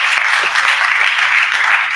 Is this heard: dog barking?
no